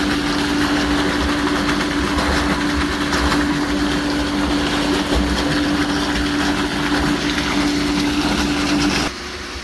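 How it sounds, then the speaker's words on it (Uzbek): Electric motor running at a 3-ton fertilizer well tank for cucumber feeding, a loud steady hum with a constant low tone and rumbling mechanical noise, continuous and close, cutting off near the end with no talk. "Mana motorimizni yoqib oldik."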